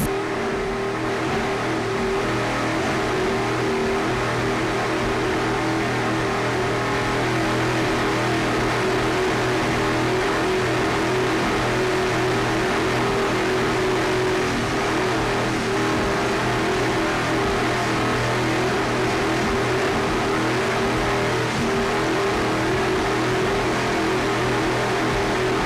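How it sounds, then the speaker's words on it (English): A 38-foot Fountain powerboat with Mercury engines races around a turn at the south end of an offshore course at Deerfield Beach, its engines a loud, steady, unbroken drone for the whole stretch. "38-foot fountain with mercury power. Going around the corner at the south end of the course here in Deerfield Beach."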